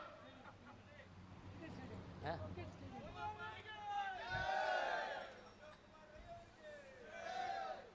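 A rally crowd at a government guarantee beneficiaries' convention in Puttur chants victory cheers in rising, swelling waves of shouting voices, heard from a distance with a voice calling out over the crowd.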